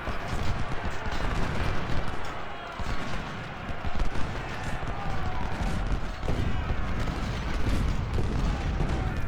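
Infantry gunfire in the Civil War strategy game Ultimate General: Civil War, a dense, continuous roar of musket volleys and crackling shots that never lets up, with a voice talking faintly underneath.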